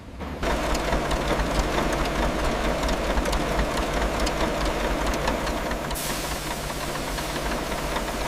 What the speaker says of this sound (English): Starting in granny low, the Warner T93 shifts smoothly into second, third, fourth, and finally fifth gear.